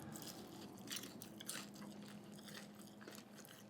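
Crunchy boneless buffalo fried chicken tenders being chewed close to the mic, with steady crisp bites and soft mastication running throughout, no talking.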